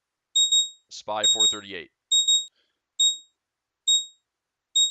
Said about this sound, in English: Chart alarm's going off this morning.